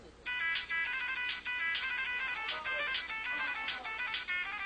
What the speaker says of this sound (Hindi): घंटी बजती है मोबाइल की